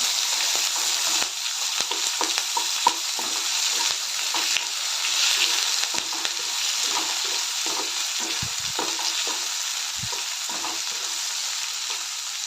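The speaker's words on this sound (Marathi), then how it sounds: "लांब चिरलेला कांदा टोमॅटो तर हे सर्व परतून घेऊया" Long-sliced onion and tomato with curry leaves sauté in a hot pan, producing a loud, continuous sizzle with occasional soft knocks and scrapes of stirring.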